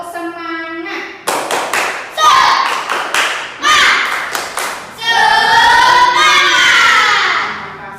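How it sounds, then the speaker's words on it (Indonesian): Schoolchildren in an Indonesian classroom perform a rhythmic spirit clap, sharp clustered claps and thumps in patterned bursts mixed with loud chanting voices, close and lively. "Tepuk semangat."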